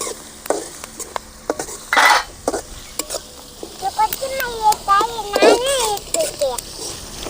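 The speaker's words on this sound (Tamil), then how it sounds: "நல்லா செவக்கணும் வெங்காயம் சேவக்க சேவக்க நல்லா மணக்குது" Onions frying in oil in a pan for ragi upma sizzle softly alongside clinks of a spoon stirring, while people talk over the cooking throughout.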